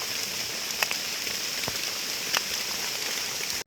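Rain pours over the Nong Mek forest during mushroom foraging, a soft constant hiss broken by a few distinct drop hits, even and unbroken throughout, with no voices.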